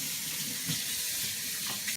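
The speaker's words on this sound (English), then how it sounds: "First we will wash our hands with warm water and soap." Warm tap water runs steadily while hands are washed with soap, a soft, continuous hiss of flowing water that is fairly faint, with a brief splash near the end.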